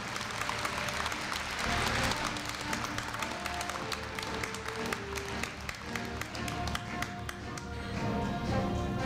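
A large audience at the 2015 Korea University freshman entrance ceremony gives sustained applause, a loud, dense clatter of many hands clapping that carries on without a break for about nine seconds.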